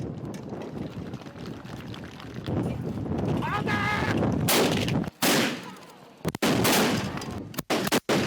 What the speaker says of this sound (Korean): 축제 하이라이트는 조총 발사 시범이다.